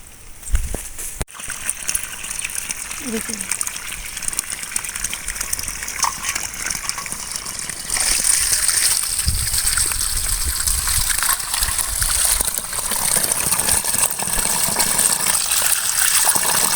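Steady tap water gushes and splashes as mudakathan greens are rinsed, continuous and close with no talk, the flow growing louder and brighter about halfway through.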